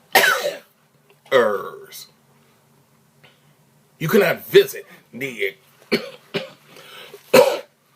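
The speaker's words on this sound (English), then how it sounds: "y'all know why I'm coughing" A man coughs and clears his throat in a few harsh bursts near the mic, with his speech and short pauses between the coughs.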